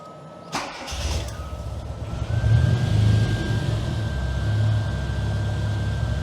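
A Classic Mini engine cranks briefly and fires, then settles into a steady mid-pitched idle with a faint whine, fairly close and loud with no talk.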